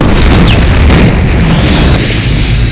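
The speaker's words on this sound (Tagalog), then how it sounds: "Tinamaan siya ng pagsabog" Heavy explosion blast sound effect, a loud booming detonation with a sustained rumbling wash of debris and noise that lingers and slowly fades, heard alone.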